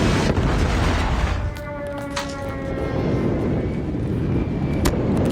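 An airstrike in Call of Duty Mobile brings heavy rumbling explosion noise, loud and dense. Several sharp blasts and a brief aircraft-like whine cut through a continuous roar.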